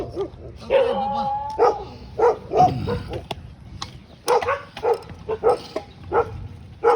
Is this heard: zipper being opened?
no